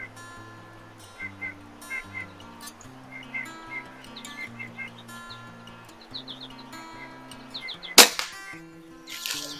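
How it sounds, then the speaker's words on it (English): A TX200 underlever air rifle in .22 caliber fires a single shot at a 25-yard target, sounding as one sharp, close crack late in the clip over a steady background of birds chirping. "this will be shot number 3, 25 yards with the TX200 and 22 caliber"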